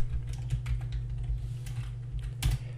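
Fingers type on a computer keyboard, a steady patter of light key clicks close by over a low electrical hum, with a slightly louder keystroke near the end.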